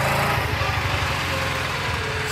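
A Milwaukee string trimmer from the outdoor power equipment line runs at a steady high-pitched motor whine throughout, loud and close, with no voices.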